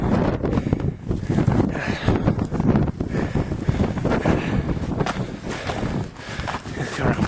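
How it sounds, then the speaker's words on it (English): Strong blizzard winds of around 30 miles an hour gusting from all directions in York, Pennsylvania, a loud roaring, buffeting rush battering the microphone continuously, swelling and easing in gusts. "We got like 30-mile-an-hour winds coming from everywhere."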